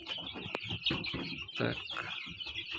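Newly hatched chicks fresh from an incubator peep and chirp in quick, irregular bursts close by, mixed with a few soft clucking notes.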